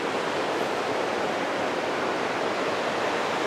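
A waterfall on Ranger Creek near Cockscomb Mountain in Banff rushes in a steady, loud, broadband roar, close and unbroken throughout with no voices.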